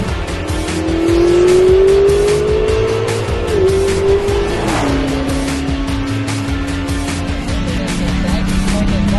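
A Dodge Charger Hellcat's engine drones loudly on a racetrack, then drops in pitch as the driver lifts off at 125 mph and brakes hard, settling into a lower steady hum.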